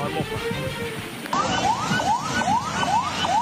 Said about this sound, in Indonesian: ambulans menerobos banjir karena orang sakit